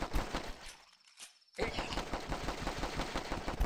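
Rapid gunfire from The Last Stand flash game as zombies are shot, dense repeated bangs that drop out for about half a second before resuming at full loudness.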